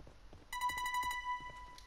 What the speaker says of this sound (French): Donc ça c'est le téléphone qui sonne